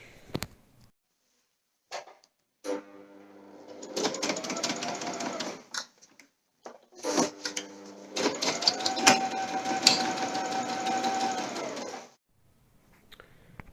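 A sewing machine stitches a homemade synthetic top quilt in two bursts, the first short and the second longer, with a fast whirring stitch rhythm separated by quiet pauses and a few small clicks.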